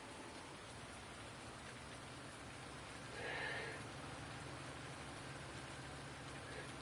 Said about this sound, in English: I'm just making some hay today in the rain.